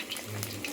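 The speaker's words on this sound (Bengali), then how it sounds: "এই লেগ পিস আর টকবক করে ফুটছে" Chicken leg pieces simmer in a pot of liquid as a biryani is cooked, giving off a soft, continuous bubbling and watery churn at moderate, close level.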